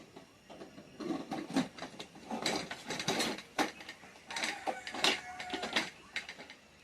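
Metallic clanks and scraping knocks of a pressure cooker lid being fitted and closed over mutton curry, a series of close, uneven clatters with brief pauses.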